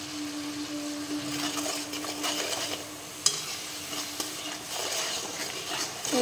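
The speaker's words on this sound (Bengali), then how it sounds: "ভালো করে কষে নেব।" Rice, salt and turmeric being sautéed in a pan for hilsa pulao, with a steady close stirring scrape over a soft sizzle and a couple of sharp spoon knocks against the pan.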